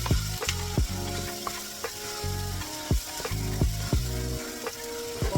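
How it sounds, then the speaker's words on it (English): A spoon scrapes and stirs through a pot of purple hull peas mixed with sautéed vegetables, a steady loud sizzle under repeated clanking strokes against the pot, close up with no talking. "let all of my sauteing vegetables kind of mix up with my beans"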